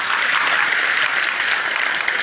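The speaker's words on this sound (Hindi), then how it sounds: "अब तो ताली बजा लो।" An audience at a Patanjali Gurukulam school talk claps steadily in a dense, even burst of applause that carries through the whole stretch without a break.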